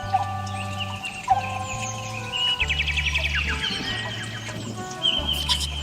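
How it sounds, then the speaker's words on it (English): Birds splashing in water to bathe twitter and chirp in quick bright trills over a steady low tonal drone in an animated fable scene. "Birds twittered and chirped gleefully as they dipped their wings into the"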